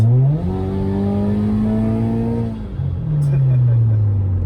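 A supercharged 300 hp FRS sports car's loud exhaust drones and rises in pitch as it accelerates, dips briefly as it shifts, then climbs again, close and steady throughout.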